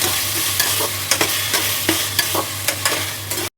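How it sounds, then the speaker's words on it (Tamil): Tomatoes, coriander and green chillies sizzle steadily in a hot pan while a spoon stirs and scrapes in a regular rhythm, close and clear with no talking. "ஒரு 3 தக்காளி, கொஞ்சமாக மல்லி, 2 பச்சை மிளகாய் சேர்த்துருக்கேன். அதையும் போட்டு நல்லா வதக்கிடலாம்"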